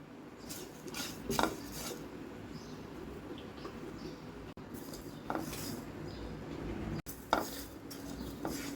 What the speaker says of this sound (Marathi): तिळातच टाका 1 चमचापर्यंत खसखस आणि दोन्ही सोबत भाजून घ्या